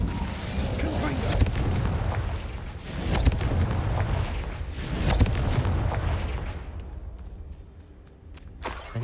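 Confringo spell blasts in Hogwarts Legacy, a run of booming explosive impacts with whooshing bursts, loud and close, tapering into quieter crackling near the end.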